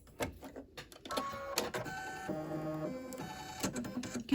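An embroidery machine stitches a planner or date book cover, its steady mechanical whirring broken by rhythmic tonal pulses and clicks from the moving hoop.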